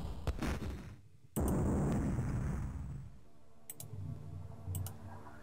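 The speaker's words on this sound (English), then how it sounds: "What was that big explosion before?" A loud, sudden explosion as a destroyed unit blows up in the Amiga video game Dune II. The burst hits hard, rumbles, and fades over a few seconds, with sharp game clicks and blips before and after.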